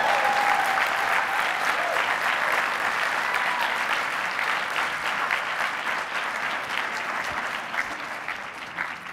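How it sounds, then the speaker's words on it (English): Loud, steady audience applause at a marketing conference, a dense wash of clapping that fades slightly toward the end. "Big round of applause, please, for Simon Bailey."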